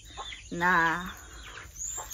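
A single chicken clucks once with a short, harmonic squawk at 5 a.m., close by and fairly loud, followed by quieter rustling and faint chirps.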